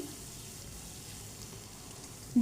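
Spices and tomato fry in a pan for a potol (pointed gourd) pakora curry, giving a faint, steady sizzling hiss throughout with no talk.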